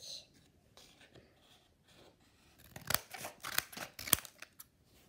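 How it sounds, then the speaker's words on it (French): Scissors snip through paper or card while a Playmobil picture frame is made, a run of close, crisp cuts coming in bursts after a quieter stretch of faint handling. "je vais découper un peu plus grand pour vous aider"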